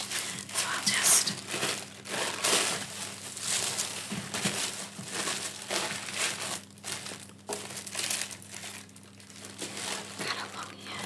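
Crinkly wrapping material is folded and crumpled around pyrography bookmarks for postage, a close, continuous rustling and crackling with soft tearing touches under a steady low hum.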